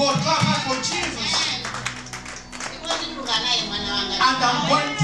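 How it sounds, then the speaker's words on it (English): A church congregation claps along during a spoken testimony, with steady hand claps running under loud voices and talk for the whole stretch. "Clap hands for Jesus."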